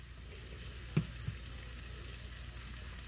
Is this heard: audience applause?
no